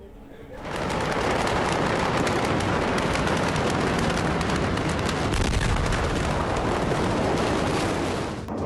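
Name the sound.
explosions in Beirut, news footage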